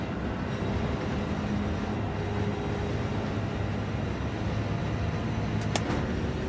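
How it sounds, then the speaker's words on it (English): A Subaru BRZ racing in Gran Turismo 7 gives a steady, continuous engine drone with faint whining tones, holding at a constant moderate level throughout with no talking. "The sound of the BRZ."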